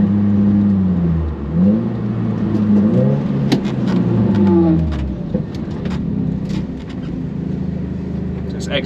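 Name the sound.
Audi TT engine running with no power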